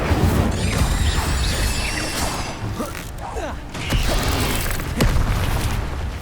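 An Incendio fire spell from the Hogwarts Legacy video game bursts out as a loud whooshing blast with crackling, creaking and crashing layers, swelling and falling over several seconds in dense game combat noise.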